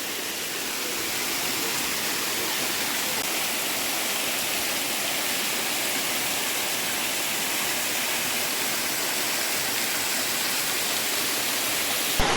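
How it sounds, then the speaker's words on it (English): Bigar Waterfall in Romania pours into a stream with a loud, constant, hissing roar of falling water. The sound is close and unbroken throughout, with no voices. "Here's a better view of the whole waterfall."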